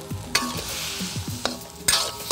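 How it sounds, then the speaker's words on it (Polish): Stir-frying in a wok after fish sauce and palm sugar go in: sharp metal scrapes and clanks of the utensil against the pan over a steady sizzle, close and loud with no talk. "Smażymy dalej."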